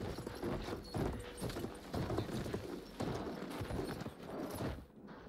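Horse hooves clip-clop in an irregular trotting rhythm in the video game Battlefield 1, over a busy background of ambient noise and clatter, steady and fairly close.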